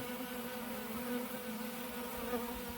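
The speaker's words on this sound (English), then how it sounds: "Bees are coming and going already" Honey bees buzz steadily around a hive as a captured swarm settles in with its queen, bees coming and going in a close, continuous drone with no talk.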